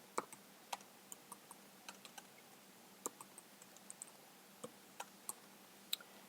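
Irregular keyboard typing, a scatter of sharp clicks and taps with uneven pauses between bursts, close up and fairly quiet, with no voices.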